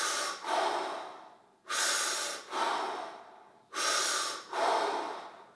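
Deep, forceful breaths are taken in rhythm during a fascial release exercise for wrists and hands, with three pairs of loud, close inhale and exhale bursts separated by short pauses and no talking.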